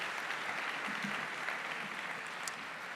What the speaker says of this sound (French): Merci, on peut vous applaudir.